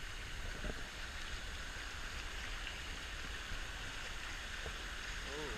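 San Antonio Creek rushes and splashes over bedrock in a continuous broadband roar, close and steady from start to finish, with a couple of faint clicks and knocks under the water and no talking.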